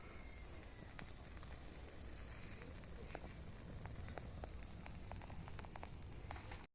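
Small outdoor fire lit in a village yard to drive away mosquitoes, crackling and popping steadily with soft sputters under a continuous hiss, fairly quiet and close.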